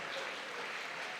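Church congregation clapping hands together, a faint, dense wash of applause from many people that stays steady throughout with no talking.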